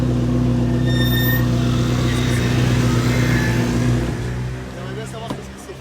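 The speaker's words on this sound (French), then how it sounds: "Ferrari F40 qui arrive au casino" A Ferrari F40 with an unsilenced Tubi-style exhaust arrives at the Monaco casino, its deep engine rumble loud and close before easing off and fading, with voices heard over it.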